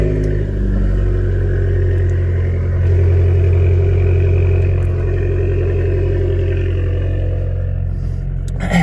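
An Abarth 595 Turismo with a changed exhaust pipe fires up from cold, its engine settling into a loud, steady, throaty idle with a deep rumble that rises and swells briefly before easing back.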